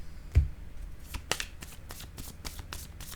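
Tarot cards being shuffled by hand in a series of crisp riffles and soft slaps, a heavier thump near the start followed by steady, evenly spaced card flicks, close and fairly quiet with no talking.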